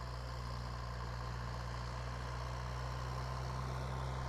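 A DTZ 5404 tractor engine idles steadily at close range with a constant low rumble and no variation in pitch, heard alone while the tractor works with a plough in a field.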